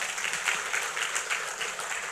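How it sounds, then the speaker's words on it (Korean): Congregation at a Korean church Friday worship service applauds, a dense, even wash of many hands clapping together, fairly loud and steady with no speech over it. "하나님께 박수로 영광 돌리세요."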